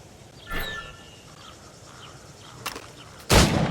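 Gunshots fired at targets in Assassin's Creed Rogue: a few sharp, separate cracks spaced over several seconds, the last one loudest and closest, with faint background ambience and no talking.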